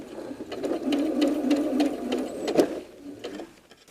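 Sewing machine stitching rows of a quilt block with a steady, continuous whir and a faint rhythmic clatter, close and fairly loud, running alone for nearly four seconds before slowing and fading.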